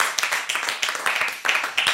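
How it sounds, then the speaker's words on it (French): Audience clapping on a French television show, a short burst of fairly close hand claps with uneven rhythm, swelling in two or three waves. "Pour une fois qu'on l'applaudit."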